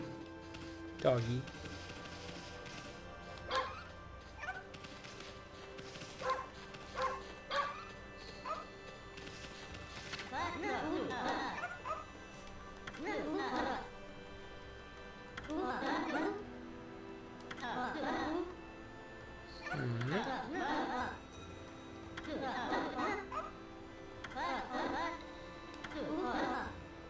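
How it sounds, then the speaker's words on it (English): Dog barking, yipping and whimpering in the video game Okami HD, a series of short yelps and whines recurring over the game's music, with a player talking at times. "Doggy."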